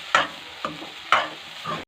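A spoon or spatula stirs dried milk roasting in a pan for panjiri, giving three or four separate scraping strokes with a faint sizzle in between, close by and moderately loud, with no talk.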